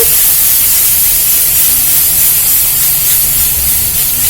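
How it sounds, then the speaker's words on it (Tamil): Masala powder sizzles as it sautés in oil for a karamani (cowpea) masala, a steady, loud, close hiss that runs without a break and has no talk over it. "போட்டு நல்லா வதக்கலாம், தூளை வதங்கட்டும்."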